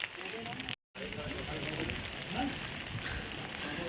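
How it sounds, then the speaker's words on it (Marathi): Heavy rain falls steadily at the crowded Triyuginarayan temple, a dense, loud hiss broken by one brief dropout, with voices talking over it. "खूप पाऊस चालू"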